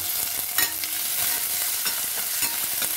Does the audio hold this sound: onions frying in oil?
yes